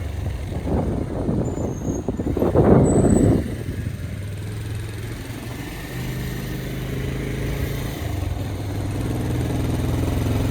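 A motorcycle strains while carrying riders on a ride to the river, its engine a low continuous drone with a rougher, louder surge early on before settling into a steadier hum, no voices.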